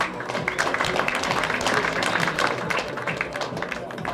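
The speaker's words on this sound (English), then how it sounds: "let's give this girl a big round of applause" A live audience at a performance breaks into dense, continuous applause that holds at an even level for the whole stretch.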